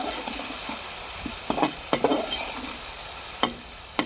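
Veg gravy Manchurian bubbles and sizzles in a pan as soy sauce is stirred in, a steady hiss with a handful of distinct spoon scrapes and knocks, near and without talking.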